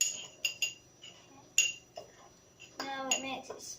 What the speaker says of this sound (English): give it a little bit of a stir with your teaspoon